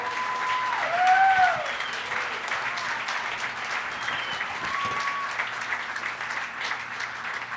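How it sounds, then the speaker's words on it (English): An audience at a community coalition meeting gives a big round of applause, sustained crowd clapping swelling briefly and then holding steady, with a few faint voices and whistles over it. "Give her a big round of applause"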